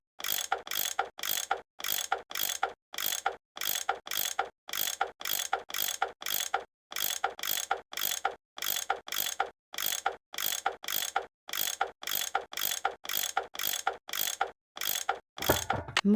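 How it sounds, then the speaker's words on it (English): Ratcheting tool turns bolts loose in the Nancy Drew game Last Train to Blue Moon Canyon, a rapid, evenly spaced mechanical clicking in repeated bursts with brief pauses between them, close and clear with no talk. "I bet that's what you use to unscrew these bolts."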